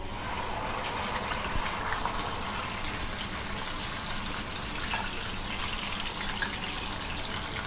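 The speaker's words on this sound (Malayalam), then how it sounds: "ചൂടായ എണ്ണയിലേക്ക് നമുക്ക് ഈ ചിക്കൻ ഇട്ട് കൊടുക്കാം." Chicken dropped into hot oil with bay leaves for frying, a steady dense sizzle and crackle, close and even throughout with no talk.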